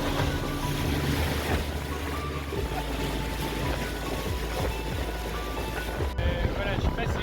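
Boat underway on a wide black-water river in Colombia: a constant rushing wash of water and engine drone with wind buffeting the microphone, and people talking over it.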